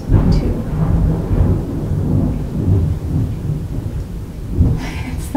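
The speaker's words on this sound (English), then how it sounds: "It's thundering." Low, rolling thunder rumbles continuously through a steady rain, loud and close, with the rumble swelling and easing over several seconds and no talking.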